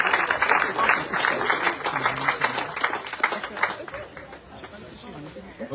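Audience at a French political campaign gathering applauds steadily as a running list member is introduced, with crowd chatter and voices mixed through the clapping, which thins toward the end.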